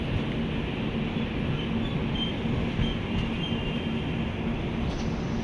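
Steady rumble of a train at a railway platform, a broad continuous low roar with a faint tonal hum, held at an even level throughout with no talk.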